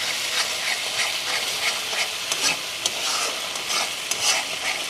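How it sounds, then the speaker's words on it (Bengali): Chili powder sizzles and fries in hot oil while being stirred in a pan for a potol posto dish, a steady loud hiss with scraping stir strokes throughout, no voices. "কালার আসার জন্য লঙ্কার গুঁড়ো অ্যাড করছি। এটা ভালো করে নাড়িয়ে নিয়ে"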